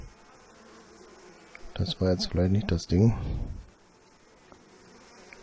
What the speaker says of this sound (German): Jetzt haben wir irgendwelche Bienen oder sowas um uns rum.